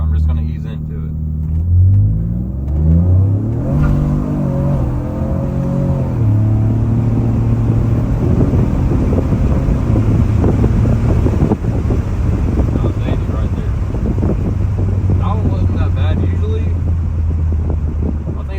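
A 2017 Ford Fusion Sport launching from about 1500 rpm, engine rumble rising in pitch through the gears with heavy cabin road and wind noise and a steady drone, loud and close as someone talks over it.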